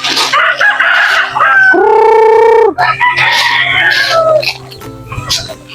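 Chickens, a mix of native and other breeds kept with pigeons, cluck and squawk nearby while a rooster gives one loud, drawn-out crow in the middle. Someone talks during the clip.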